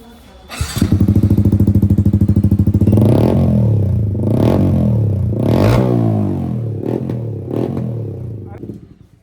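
A Yamaha MT-15 motorcycle with an aftermarket full-system exhaust revs up loudly nearby, a fast pulsing idle rising into several throaty revs that fade away at the end, with voices talking over part of it.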